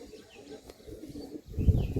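A Madrasi pigeon gives soft, low cooing murmurs close by, with a louder, fuller coo swelling near the end, no speech over it.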